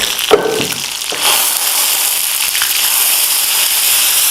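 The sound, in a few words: green chillies and mustard tempering in hot oil, iron kadhai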